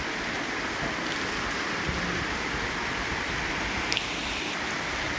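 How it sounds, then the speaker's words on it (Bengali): Steady rain pouring outdoors, a dense, even hiss of drops that stays constant throughout, with a brief faint tick partway through and no voices. "এখন আমি বৃষ্টি উপভোগ করব।"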